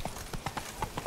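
Steady clip-clop of a horse's hooves on a hard surface in The Witcher 3: Blood and Wine video game, about eight evenly spaced footfalls, close and moderately loud.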